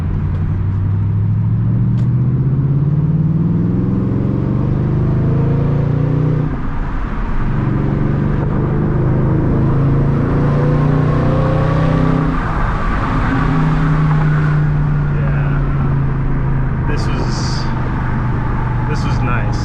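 A car with its muffler deleted drones loudly and continuously through a drive on a side road, rising through rev sweeps with audible downshifts around the middle, while voices talk over the exhaust.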